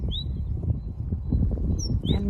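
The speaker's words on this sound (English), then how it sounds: "the birds are very loud here" Birds chirp and whistle outdoors on a countryside walk, with a few short bright calls over a close, rustling, low-pitched background of wind and movement.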